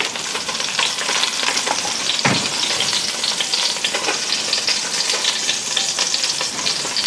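Oil sizzles steadily in a frying pan still hot from searing chicken, a loud, dense, close crackle that continues unbroken, with one brief clunk partway through.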